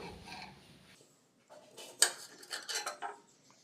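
An onion is cut with a knife on a board while preparing okra dopeyaza, giving a few close, sharp chops and a knocking cluster with brief scraping between them.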